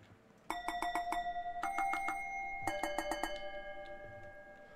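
In the video game Ether One, a bell rings out in three quick bursts of rapid metallic strikes, clear and bright, each burst leaving a lingering ringing tone over a quiet background.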